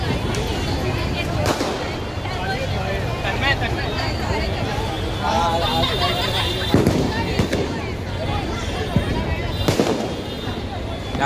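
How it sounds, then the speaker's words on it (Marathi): Small and large firecrackers and aerial fireworks burst repeatedly at a Diwali festival at Shivaji Park, Dadar, sharp bangs scattered over a dense crackling backdrop with crowd chatter and voices talking throughout. "या साईडला छोटे मोठे फटाके वाजतात मस्त."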